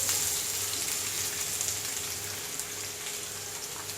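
Onions frying in oil in a pan for a cauliflower, pea and potato curry, a steady, close, dense crackling sizzle that continues without a break.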